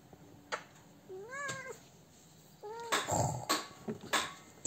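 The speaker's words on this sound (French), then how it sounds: "on va croire que je te trucide vu comment tu miaules." A cat being carried in one arm meows repeatedly in distress, several drawn-out rising cries up close, with rustling and handling noises and a few thumps between them.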